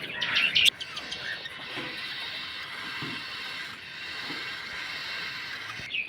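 Pet lovebirds and other birds eating rice: a sharp burst of bright chirping opens, then gives way to a soft, steady twittering murmur with faint clicks and pecks.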